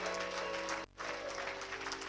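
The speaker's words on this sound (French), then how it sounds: "Est-ce qu'on peut applaudir très fort pour le Seigneur?" A church congregation claps loudly for the Lord, a thick wash of applause that briefly cuts out for a moment in the middle and then resumes, with a sustained musical tone running underneath.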